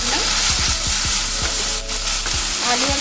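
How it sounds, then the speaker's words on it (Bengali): Potatoes and grated taro fry in hot oil with a constant bright sizzle. Repeated sharp stirring scrapes and clinks break through it, and there is no talk. "আলু আর গুঁড়ো কচুটা দিয়ে একসঙ্গে আমি এটাকে ভেজে নেব"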